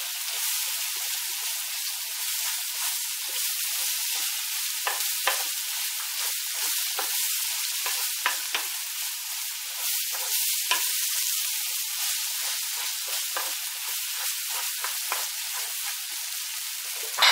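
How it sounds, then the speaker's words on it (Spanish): A spoonful of flour fries among sautéed vegetables in a pan, giving a dense, close, continuous sizzle with scattered pops and crackles throughout, no voices. "Ahora le voy a añadir una cucharada de harina y la refrío"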